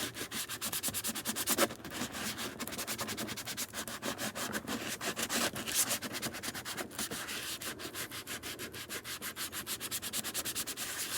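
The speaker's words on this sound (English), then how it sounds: "So what I'm going to do with my sanding sponge is roughen this up to give me a good gluing" A sanding sponge scrubs the surface of a plastic compost bin lid in steady, rapid back-and-forth strokes, a continuous close rasping rub that runs alone throughout with no talking.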